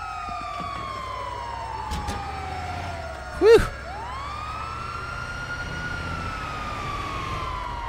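Wailing ambulance siren in Grand Theft Auto V, a long sweeping tone running steadily through the clip beneath game ambience, with a short loud burst midway and a brief voice.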